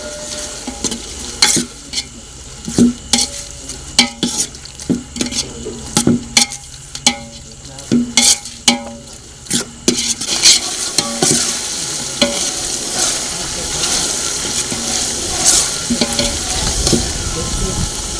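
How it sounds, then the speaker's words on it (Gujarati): A ginger, green chilli, onion and tomato paste with spices sautés in a pan for chhole, with repeated spoon scrapes and clacks for about ten seconds, then a steady close sizzle. "આદુ મરચાં ડુંગળી અને ટમેટાં એ બધા મિક્સ થઈ જાય અને સરસ મજાની એની પેસ્ટ સંતળાઈ જાય"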